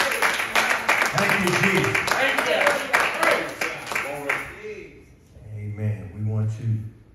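Church congregation claps its hands in praise during a worship service, a dense burst of clapping overlapping with a speaker's voice, then fading out as the talk carries on alone.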